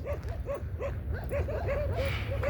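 Several dogs barking and yipping in quick repeated bursts at a desert garden in Saudi Arabia, moderately close over a constant low background rumble, with no talking.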